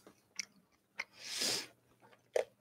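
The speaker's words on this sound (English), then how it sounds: "Hopefully you can't hear me crunching" Someone eats peanuts, with a few sharp crunches spaced irregularly and a longer, louder chewing burst in the middle, close to the microphone with no talking.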